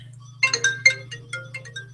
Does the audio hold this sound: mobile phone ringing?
yes